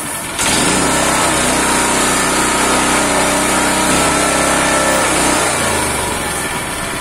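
A small Mitsubishi GM181L gasoline engine sputters to life after a brief, light pull and settles into a loud, steady running drone close by.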